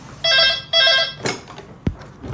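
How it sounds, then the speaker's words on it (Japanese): A telephone rings in a hotel room in Sapporo, two loud, close electronic ring bursts in quick succession, followed by a few soft handling clicks and a sharp knock. "ちょっと電話出ます。"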